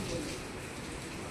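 Heavy rain pours steadily in a broadband wash of hiss, loud and continuous across the short stretch with no break or separate drops standing out.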